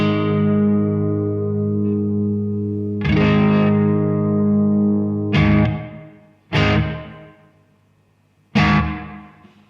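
Sustained tones drenched in warbling, pitch-wobbling room reverb from a Strymon BigSky with modulation pushed high, followed by several struck notes whose washy tails smear and decay between hits.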